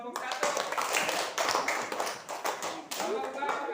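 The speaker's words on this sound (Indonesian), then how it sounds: "Tepuk tangan lagi buat kelompok 1." A classroom full of students applauds a student group, with dense, steady clapping running through the whole moment and voices mixed in underneath.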